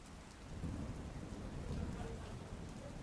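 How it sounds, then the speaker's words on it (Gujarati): Steady rain falls in Ahmedabad, a dense, even hiss with a low rumble beneath it, continuous and fairly quiet throughout. "એસજી હાઈવે, સિંધુ ભવન, વૈષ્ણોદેવી સહિતના ભાગોમાં વરસાદ વરસતો જોવા મળી રહ્યો છે"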